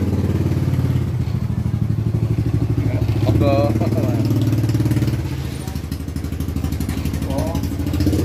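A motorcycle engine runs steadily close by at a satay stall, its low rumble filling the scene while people talk over it and a brief clatter sounds midway.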